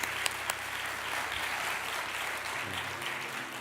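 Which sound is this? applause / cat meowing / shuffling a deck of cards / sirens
applause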